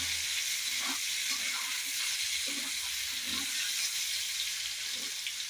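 Paneer frying lightly in hot oil gives a steady, close sizzling hiss, broken by soft stirring and movement sounds.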